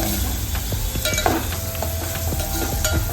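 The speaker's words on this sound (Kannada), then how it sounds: "ಬೆಳ್ಳುಳ್ಳಿ ಚೆನ್ನಾಗಿ ಫ್ರೈ ಮಾಡ್ಕೊಳ್ಬೇಕು" Garlic fries in a hot pan for a ridged gourd dish, a steady loud sizzle broken up by a regular scrape and clink of a spatula stirring, with no voices.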